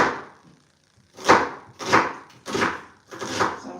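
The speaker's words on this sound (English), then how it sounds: "So I'm chopping the onion." An onion being chopped with a knife for Nigerian beef stew, four crisp, evenly spaced cutting strikes after a brief quiet start, close and clear with no talking.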